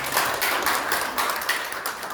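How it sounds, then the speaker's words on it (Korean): A lecture-hall audience claps steadily to welcome a speaker at a policy forum on elderly poverty, a dense, continuous patter of many hands at moderate distance with no voices. "박수로 맞아주십시오"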